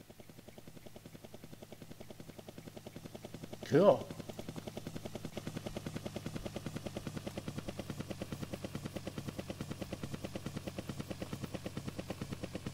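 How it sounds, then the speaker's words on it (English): A video game helicopter's rotor thumps in a steady, rapid rhythm throughout as it approaches a rendezvous point in a Minecraft map, with a brief louder burst early on and a short spoken word. "I can hear a helicopter coming."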